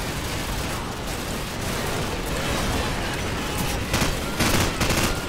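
Dense, continuous machine gun fire in the video game Call of Duty 4: Modern Warfare, loud and close, with heavier bursts and blasts mixed in toward the end.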